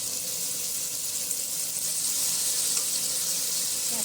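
Boiled banana flower (mocha) sautéing in a pan, a continuous broad hiss and sizzle with faint stirring, steady and close without speech.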